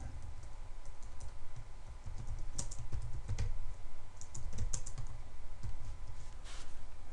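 Keystrokes on a computer keyboard as a keyword is typed, a close, steady run of clicks with small gaps between bursts.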